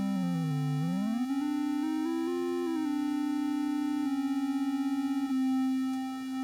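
AudioKit Synth One software synthesizer plays a sustained tone with a detuned second oscillator, the pitch sweeping down and back up before settling into a steady, slightly beating harmonic note with no voices.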